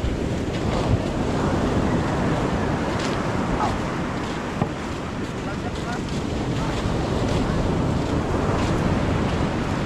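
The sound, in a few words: waves washing on a beach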